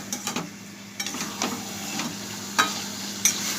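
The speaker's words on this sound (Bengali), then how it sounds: "এবার একটু কষিয়ে নেব" Chicken in soy sauce sizzles softly in a pan while a spoon scrapes and taps through it in irregular strokes, with a couple of sharper clacks near the end and no talking.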